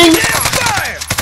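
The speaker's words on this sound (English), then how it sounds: "further gunshots!" A quick burst of sharp gunshots in the video game Call of Duty: Warzone crackles in rapid succession, loud and close, with a falling whine trailing through it.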